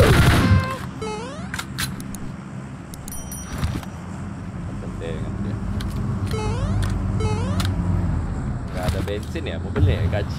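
A car engine hums steadily in PUBG Mobile while people talk over it, with scattered beeps and short clicks from the game running through the drive.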